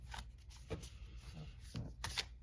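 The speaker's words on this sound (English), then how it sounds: "Just going to shuffle here." A deck of oracle cards being shuffled by hand, with several quick papery riffles and flutters in a close, quiet setting.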